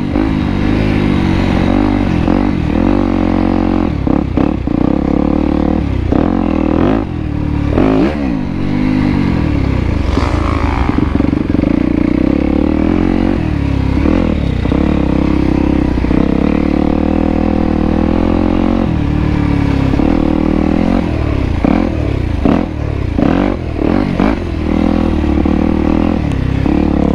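A Yamaha YZ250X two-stroke dirt bike rides a motocross track with a continuous loud engine drone, revving up and down through the gears as it climbs and lands, close to the rider throughout.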